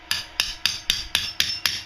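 A hammer strikes a metal part while a kid's car is being built, seven sharp, evenly spaced blows in a steady rhythm, close and loud with no talk.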